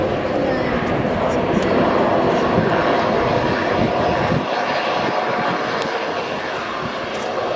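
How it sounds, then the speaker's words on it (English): Airbus A400M military transport with Europrop TP400 turboprop engines flying at an airshow, a loud, sustained engine roar that eases slightly toward the end. "Not just new aircraft here, but new engines also for Europrop International TP400s"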